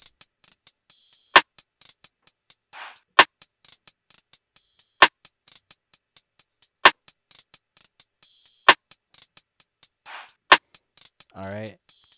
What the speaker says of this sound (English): next I added a snare, a sort of rim shot like that, a percussion sound